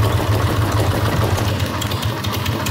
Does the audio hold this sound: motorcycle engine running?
yes